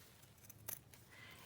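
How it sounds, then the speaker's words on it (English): Scissors snip once through fabric while a junk journal cover is being decorated, a single short crisp cut, close and quiet, with no talk. "So I just snip it along here."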